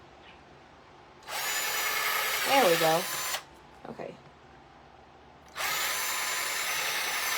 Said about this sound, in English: I'm going to drill directly under that hole under the tree